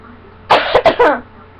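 A single close, harsh cough breaks into a few quick bursts, then stops.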